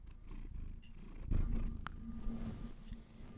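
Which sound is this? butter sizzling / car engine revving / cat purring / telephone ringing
cat purring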